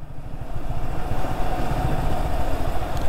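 Motorcycle engine on a steep, rough mountain road, a close, steady, mid-pitched rumble that holds without a break and with no voices.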